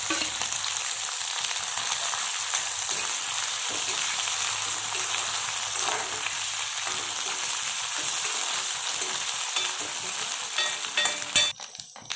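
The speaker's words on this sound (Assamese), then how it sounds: "এতিয়া মাছখিনি আমি ফ্ৰাই কৰি ল'ম অলপ টাইম পিঁয়াজৰ লগত।" Dried fish sizzles and fries with onions in hot oil, a steady close crackling hiss running throughout with occasional stirring, and no talking.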